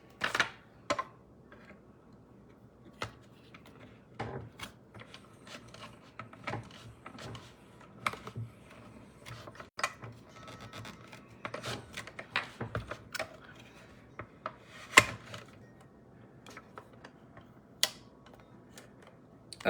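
A Stampin' Up! die-cutting machine cranks a plate through in an indoor craft setting, giving scattered sharp ticks and clicks with a soft low rumble, fairly faint and close, with no talking.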